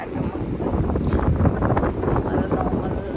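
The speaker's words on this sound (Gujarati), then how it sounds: "મસ્ત પવન આવે છે ને આજે મસ્ત." Wind gusting at a local beach, a steady rushing buffet over the microphone throughout, with voices talking underneath.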